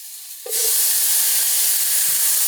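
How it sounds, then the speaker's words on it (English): Two tablespoons of drained capers hit a hot pan for chicken piccata and are stirred. After a short quiet lead-in, a loud hiss bursts in abruptly and holds as a steady close-up sizzle. "Just going to give this a little stir around until it gets fragrant"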